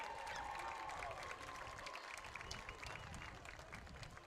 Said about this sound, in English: How about a big round of applause for our 2024 homecoming court?